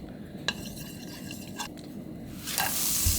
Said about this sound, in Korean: 이렇게 마늘은 한 스푼만 볶아요.